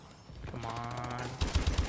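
Blind-fire gunfire in a video game: a short, rapid burst of shots that breaks in abruptly at the end after a quiet stretch of game sound.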